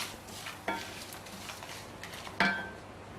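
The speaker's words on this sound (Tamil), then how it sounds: "பெருங்காயத்தூளை நான் சேர்த்து இதில் ஒரு பெரட்டுறேங்க." Quiet stirring of spices with asafoetida powder in a pan, with a couple of sharp scrapes of a spoon against metal over a faint background hiss.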